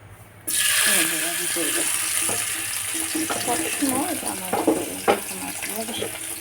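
Fish coated in chili spice fries in a small amount of oil in a pan on the stove, a loud continuous sizzle that starts abruptly and carries on with spattering crackles and some faint background voice beneath it.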